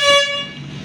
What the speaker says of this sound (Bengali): horn then, horn